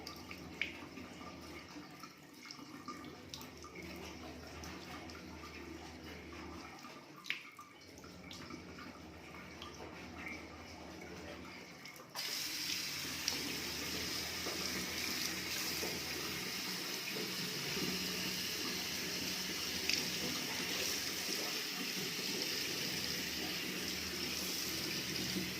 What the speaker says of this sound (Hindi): ऐसे पानी चलाते जाना है